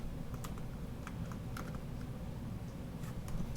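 Keys clack on a computer keyboard in quick, irregular bursts of close, fairly quiet taps over a low background hum, with no one speaking.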